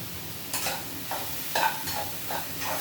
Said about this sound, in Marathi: आता त्याला हलवा द्यायचा, मिक्स करून घ्यायचं भेंडी टाकल्याच्यानंतर.